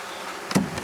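Honeybees buzz as hive frames are handled and bees are dumped into a box, a faint steady hum rising to a brief louder burst near the end.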